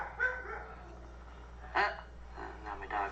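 A dog barks a few short times in the background of a home livestream, the yips faint and intermittent beneath a low steady hum.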